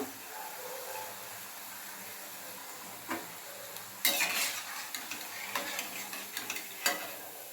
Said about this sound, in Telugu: అన్నీ ఇలానే వేసుకొని గోల్డెన్ కలర్ వచ్చే వరకు వేయించుకోవాలండి